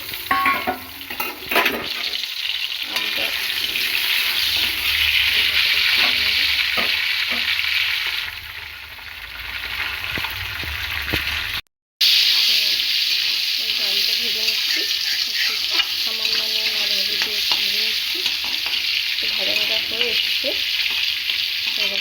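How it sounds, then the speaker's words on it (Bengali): Potatoes fry in hot oil for a Bengali lunch, a loud steady sizzle and crackle with occasional stirring clatter, briefly cut by a moment of silence midway before the frying resumes just as strongly. "এবার তেলের মধ্যে আলুটা ভেজে নেব"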